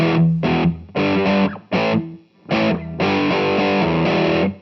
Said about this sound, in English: that's a clean amplifier mixed with like a tube screamer, that kind of crunch